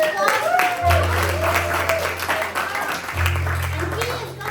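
Talent show audience applauding in two bursts of clapping, with a host's voice speaking over the crowd noise throughout.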